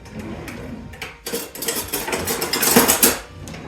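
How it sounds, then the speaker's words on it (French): A metal whisk beats sugar and eggs in a bowl for dorayaki batter, with quick clattering scrapes against the bowl that build into a dense, loud burst of clinking near the end. "mélanger le sucre et les œufs. Là, ça me prend un fouet"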